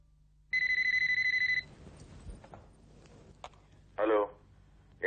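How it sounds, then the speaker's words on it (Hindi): A phone rings in a Hindi TV drama scene with a short, bright electronic trill of about a second. Voices then talk, and a second brief ringing burst follows. "इनका फोन है।"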